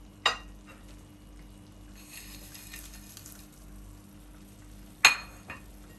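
Mango chutney is stirred in a pan after jaggery goes in, with a faint sizzle beneath and two sharp spoon clinks against the metal, one at the start and one near the end.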